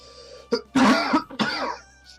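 A single person coughs and clears their throat close to the mic, a brief sharp burst followed by a longer rasping cough, with no talk during it.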